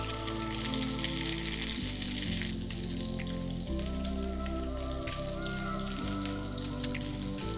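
Chicken pieces frying in a pan for a teriyaki rice bowl, a loud continuous close sizzle and crackle, with a low steady hum running beneath it throughout and no voices.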